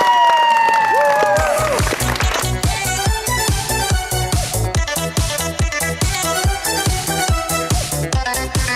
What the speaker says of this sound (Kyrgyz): Сиздердин кол чабыңыздар менен биздин Гүл айым.